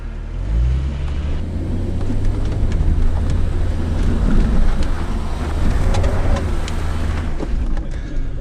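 A solid-axle Jeep climbing an off-road slope, its engine giving a loud, steady, close drone with deep rumbling throughout and no talking.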